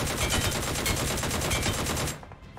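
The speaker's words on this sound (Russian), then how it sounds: "Так, будем стреляться, конечно же, с ДПшки." Rapid, sustained burst of DP machine gun fire in the video game PUBG Mobile, loud and continuous for about two seconds before cutting off abruptly.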